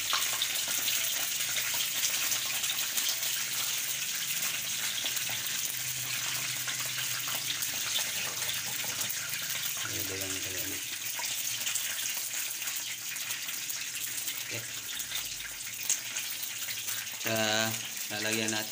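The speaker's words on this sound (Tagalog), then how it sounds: "lalagyan natin ng tubig." Water pours into a cooking pot during preparation of fish-bone tinola soup, a steady gushing rush running throughout, broken by short clanks and rattles of cookware near the end, with no one speaking.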